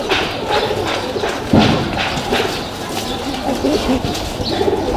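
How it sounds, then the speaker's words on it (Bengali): Domestic male pigeons of a kept loft giving loud, close, repeated throaty coos over a steady background, with a brief thump partway through and no speech. "এই যে এক পেয়ার, এগুলো সব মানে পাঠা কবুতর"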